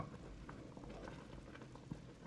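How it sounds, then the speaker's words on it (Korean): Potato soup with cheddar cheese bubbling as it boils in a pot, a steady, soft, dense gurgle with faint popping throughout, close and continuous with no speech. "보글보글 끓으면 다 됐어요."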